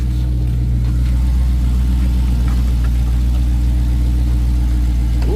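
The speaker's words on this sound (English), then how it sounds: "Hold on, let me hit the gas one more time." A Dodge Hellcat Charger fitted with a JLT cold air intake, its engine idling with a deep heavy rumble and a rising rev near the end, loud and close with no voices.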